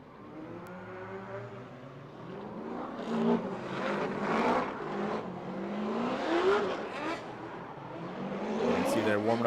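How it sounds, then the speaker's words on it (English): An LS V8-powered BMW 135i drift car warms its tires at Lake Erie Speedway during a Formula D Pro-Am drift event, its engine droning and rising at a distance while a commentator talks over it. "Warming up his tires, Musienko"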